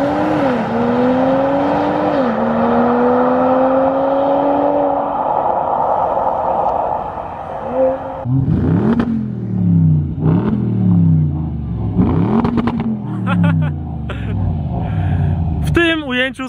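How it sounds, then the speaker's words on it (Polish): A Mercedes-AMG GT 4-door 53 with 435 hp launches hard from a standstill, its engine rising through repeated upshifts in a loud, close run of climbing revs, each gear change breaking the pull before it builds again. "zobaczmy sobie, jak brzmi GT Fordor, 435 koni, no i jak się zbiera z launcha"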